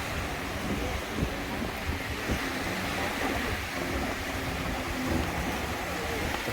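Wind and surf wash steadily over a narrow beach at Hua Hin, a continuous rushing hiss of breaking waves mixed with buffeting wind on the microphone.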